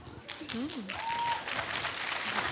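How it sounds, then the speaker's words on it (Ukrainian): Applause from a crowd, steady and moderately loud, with voices and a brief sung or spoken phrase layered over the clapping. "А що ви плескаєте?"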